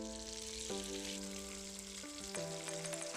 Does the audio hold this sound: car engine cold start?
no